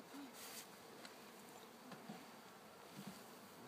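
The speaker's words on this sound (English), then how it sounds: "I don't like to leave a lot of bees in there." Honey bees buzz in a thick continuous drone during a package bee install, a faint steady swarm hum with individual bees passing close now and then, no talk.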